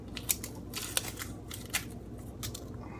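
A knife cuts around the bottom of an onion at close range, giving a few crisp, short snicks and soft scraping clicks spread across a quiet moment, with no talking.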